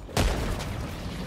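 A grenade blast in Helldivers 2, one sudden deep boom that rolls out into a rumbling, fading tail within about a second.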